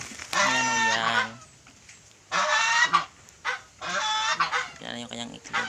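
Geese kept on a rural farm honk loudly and close in four separate raucous bursts, with quieter gaps and faint low talk between calls.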